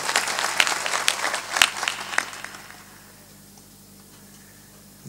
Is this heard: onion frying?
no